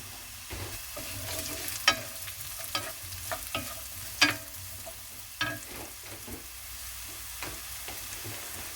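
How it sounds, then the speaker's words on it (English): Onions fry in a very hot pan for a French quiche, a continuous sizzle broken by repeated scraping and clanks of a spatula stirring, close and with no talking. "And when it's really hot, I'm going to add my onions."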